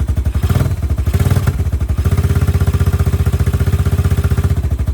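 A KP mini motorcycle with a swapped-in Hawk 250X engine idles close by while still cold, with a rapid, steady, lumpy chug, loud and continuous throughout.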